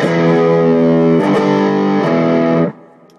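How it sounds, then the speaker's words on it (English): A heavily distorted electric guitar rings out in a thick sustained chord while the pick slides along the strings, bringing small shifts and scrapes in the tone before the sound cuts off abruptly near the end. "On the pick slide or the pick scrape,"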